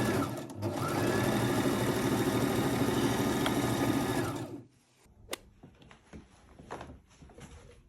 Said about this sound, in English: So we'll go right ahead to begin sewing it up